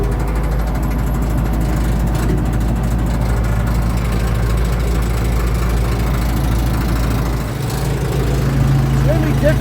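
A tractor engine drives a brush cutter blade in slow second gear, its low rumble steady and loud throughout with a brief dip near the end, and no speech heard.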